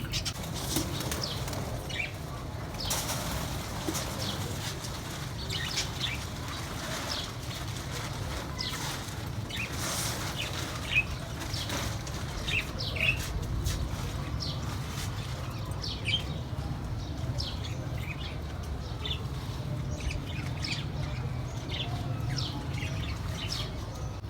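Repeated soft bursts of a pigeon chick's wing flapping come and go over a constant low rumble, with faint chirps scattered throughout.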